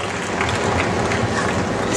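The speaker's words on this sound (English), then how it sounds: "Have another round of applause for him." Applause from a large audience in the Crocoseum stadium at Australia Zoo, a steady wash of many hands clapping at a distance throughout.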